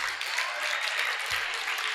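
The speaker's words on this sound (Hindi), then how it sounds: "अब तालियां बजा दो अपने लिए" An audience at a Jain religious discourse claps steadily in a dense, continuous round of applause that fills the whole stretch, with a faint low hum beneath it.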